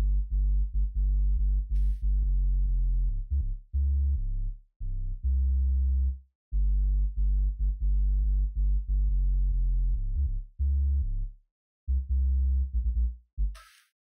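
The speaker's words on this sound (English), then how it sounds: "So we just listen to just what that sub's doing." Synth sub bass following a complex bass line: deep, pure low tones pulse in short and sustained notes with brief gaps, heard alone with no voice.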